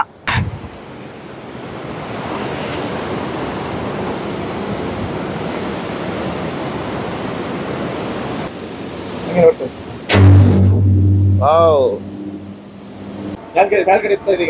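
Water rushes fast past a gate, a loud steady roar with heavy wind buffeting the microphone, then breaks off into handling knocks and a brief whistle-like tone near the end.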